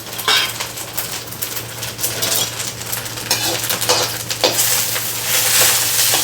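Onions fry in hot oil with cumin, mustard seeds, garlic and curry leaves, a bright steady sizzle broken by repeated metallic clinks and scrapes of a spoon stirring the pan close by.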